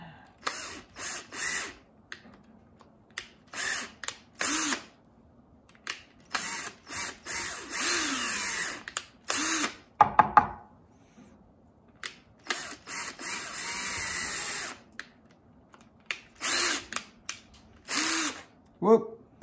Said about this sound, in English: Let's ream these guys out a little bit.